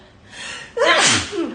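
One loud human sneeze in an indoor room during a PC upgrade, preceded by a soft inhaled breath and ending in a brief breathy tail.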